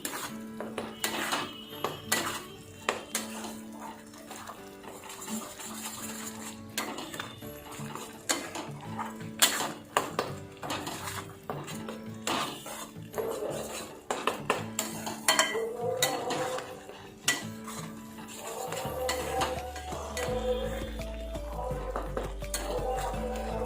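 A spoon scrapes and clinks around a metal pan as spices are stirred for palak paneer, with irregular close knocks and scrapes throughout, then a low rumbling hum toward the end.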